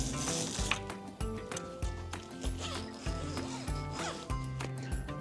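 Two zippers on the mesh bug net of a luxury pop-top campervan are pulled open, giving short rasping runs with scraping and rattling handling noises between them, close by.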